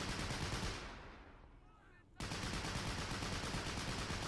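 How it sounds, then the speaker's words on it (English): Sustained .30 cal machine gun fire in the WWII video game Men of War Assault Squad, a dense rattling barrage that fades away, goes quiet briefly, then cuts back in at full loudness. "Look at that 30 cal fire."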